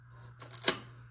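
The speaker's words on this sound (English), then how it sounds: "Now, I can wind the film. I can advance the shutter." A Pentax 6x7 medium-format camera with no film loaded being wound, its film advance and shutter cocking giving a brief close mechanical ratcheting burst over a faint steady hum.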